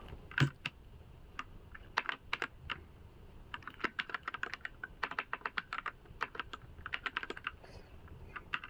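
Rapid, light keystrokes on a computer keyboard as a name is typed in a design app, a dense run of soft close clicks in uneven bursts with a few heavier taps, no voices.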